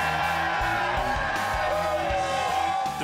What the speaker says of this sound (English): The crowd is pumping me up and giving me the strength to forge ahead through the searing heat.